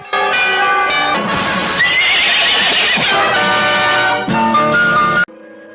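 A horse neighs loudly and at length in a film dream scene about a masked figure on horseback, with hoofbeats and a bell-like musical tone around it, ending abruptly.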